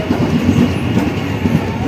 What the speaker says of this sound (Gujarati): તમે જોઈ શકો છો ખૂબ જ સારી ટ્રેન, ખૂબ જ સારી જર્ની.